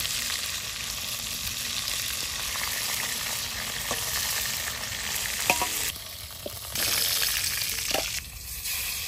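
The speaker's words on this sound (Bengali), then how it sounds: "লাল করে ভেজে নিচ্ছি।" Boal fish pieces sizzle steadily in hot oil as they brown, a constant crackling hiss with occasional stirring clinks and brief dips in intensity, no voices.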